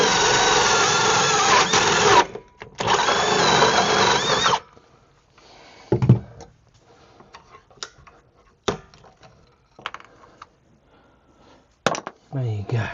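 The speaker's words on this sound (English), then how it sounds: "the drill bit is through, and I'm tapping into space" A drill bores through into a sewer, loud steady whirring in two long bursts, then stopping, followed by sparse knocks and taps with quiet gaps.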